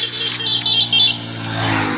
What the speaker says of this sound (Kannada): ನೋಡಿ ಫ್ರೆಂಡ್ಸ್ ಆ ಬೈಕ್ ಹೋಗ್ತಾ ಇದೆ